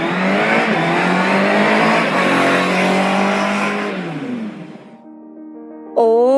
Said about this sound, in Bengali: সেই সময় হঠাৎই একটা বাইকের আওয়াজ ভেসে আসতে শোনা গেল